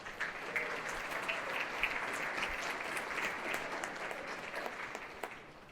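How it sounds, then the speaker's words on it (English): A school holiday jazz band concert audience in an auditorium claps for the custodians and staff: a steady, even wash of many hands, fairly distant and soft, continuing throughout. "So let's give them a big round of applause."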